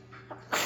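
A single close sneeze, a short breathy intake and then a sharp, loud burst of air at the end.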